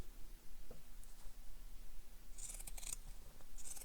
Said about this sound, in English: And I'm using pinking shears for this.